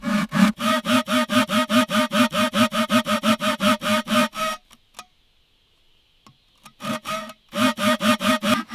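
Rhythmic, rapid strokes of a blade notching wood at a forest bushcraft shelter site, then a pause with a few faint scrapes as shavings are cleared, before the steady cutting strokes resume, close and loud.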